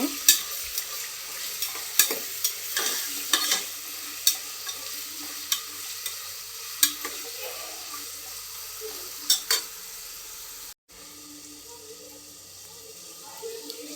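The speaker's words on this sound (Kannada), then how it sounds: "ಈಗ ಚೆನ್ನಾಗಿ ಫ್ರೈ ಮಾಡ್ಕೊಳೋಣ ಎಲ್ಲ ವೆಜಿಟೇಬಲ್ಸ್" Vegetables with peas and ginger-garlic paste fry and get stirred in a pan for pulao, a steady close sizzle broken by repeated spoon scrapes and clinks, with a brief cut near the end.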